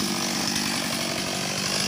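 A chainsaw cuts down a tree, its engine snarling loud and steady at close range without a break for the whole stretch.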